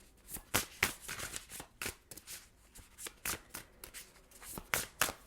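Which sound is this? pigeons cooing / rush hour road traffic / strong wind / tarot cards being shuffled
tarot cards being shuffled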